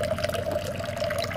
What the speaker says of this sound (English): solar water fountain that I created from an old electric water fountain